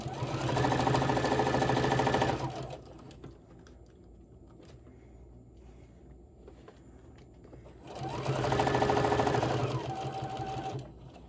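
A sewing machine stitches fabric for a bowl koozie in two steady, fast runs of about two and three seconds, close by, with a quiet pause between them.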